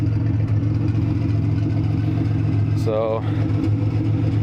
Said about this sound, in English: Just running the open downpipe right now.